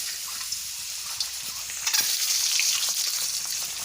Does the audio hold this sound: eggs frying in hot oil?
yes